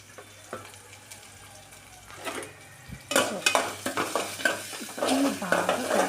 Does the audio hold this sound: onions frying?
yes